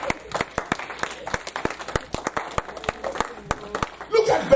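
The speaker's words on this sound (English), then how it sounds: "Clap for Jesus." A church congregation claps in scattered, uneven bursts, sharp hand claps at moderate distance mixed with crowd murmur and talking, swelling louder near the end.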